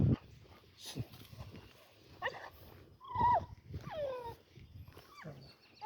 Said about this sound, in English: Cute dog, though.